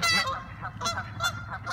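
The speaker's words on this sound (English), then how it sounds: "Say hi to the duckies." Ducks honking in a repeated nasal series of calls, close and fairly loud, with a few rhythmic honks in under two seconds and no talking.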